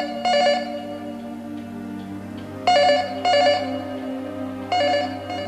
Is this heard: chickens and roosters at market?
no